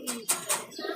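Jalali pigeons give a few soft, brief coos close by, in quick succession in a quiet coop.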